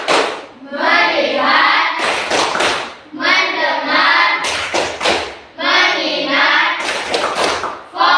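An elementary class does rhythmic focus clapping, bursts of loud unison claps and thumps alternating with children chanting words together in a repeating call-and-response pattern.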